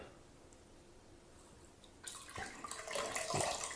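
Tomato juice poured into a fermenter over a sink for tomato wine, a faint quiet stretch giving way after about two seconds to a louder, close splashing pour that builds toward the end.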